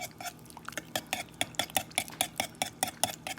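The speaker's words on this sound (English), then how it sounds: "All right, now we mix it." Apple cinnamon muffin batter is mixed in a bowl with rapid rhythmic utensil strokes, a quick run of close clicks and scrapes against the bowl, with no talking.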